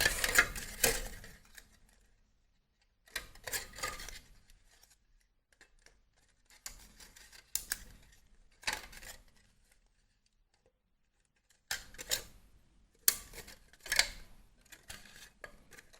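Scissors cutting folded paper for a children's craft, quiet close snips and rustles in irregular clusters separated by pauses of silence.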